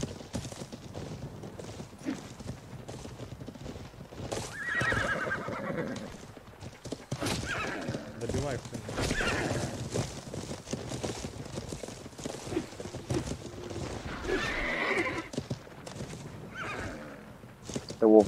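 In the medieval game Life is Feudal, a horse neighs and its hooves clip-clop steadily through a long stretch of gameplay, loud and close, with a few scattered footsteps.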